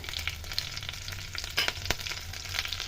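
Green chillies sizzle in hot tempering oil with a steady, close, bright crackle broken by a few sharper pops, and no voice over it.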